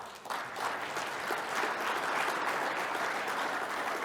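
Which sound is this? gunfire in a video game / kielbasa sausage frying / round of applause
round of applause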